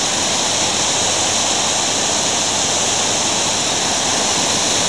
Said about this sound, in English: this waterfall's on the way back